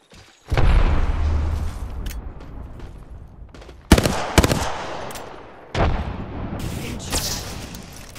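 Video game gunfire in Apex Legends erupts in loud bursts of rapid shots and booms, separated by brief quieter gaps, with no talk.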